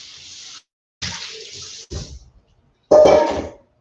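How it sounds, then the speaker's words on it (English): Vegetables are rinsed under a kitchen tap in short bursts of running water, three separate gushes with gaps of silence between them, the last one the loudest and nearest. "Rinse that out."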